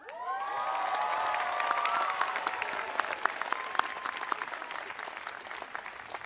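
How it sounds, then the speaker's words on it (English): A seated crowd applauds warmly at the Pomona College Class of 2022 commencement ceremony, with dense clapping that holds steady and then thins gradually, plus a few scattered cheers. "So may I ask for please warm rounds of applause for two of your fellow classmates, Ruby Simons"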